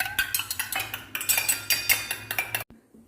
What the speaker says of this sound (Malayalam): ഇതിലേക്ക് കുറച്ച് പാലൊഴിച്ച് നന്നായിട്ടൊന്ന് മിക്സ് ചെയ്യുന്നുണ്ട്.